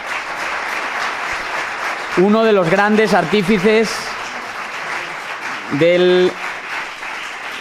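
Applause from an audience at a Liberty Day celebration fills the whole stretch, a steady clapping wash under a voice announcing and praising someone.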